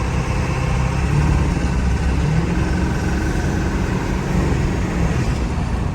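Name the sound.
car engine revving with accelerator floored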